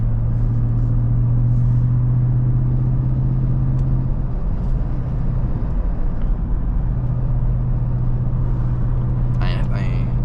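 A 2024 Ford Raptor R pickup with a 7-speed transmission and 37-inch BF Goodrich tires drives along, its engine a steady, loud low drone throughout, with people talking over it.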